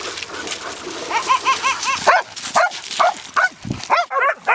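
Two dogs, a big one and a little one, play together with excited yips, whimpers and short barks in quick uneven bursts close by, while people talk in the background.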